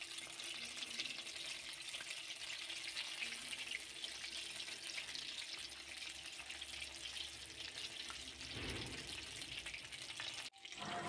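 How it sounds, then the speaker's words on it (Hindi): Fish fingers fry gently over low heat in oil, a continuous soft crackle and hiss at low level throughout, with a brief clatter near the end and no voices. "फ़िश को हल्की आंच पर फ्राई करेंगे ताकि अच्छी तरह से फ्राई हो जाए।"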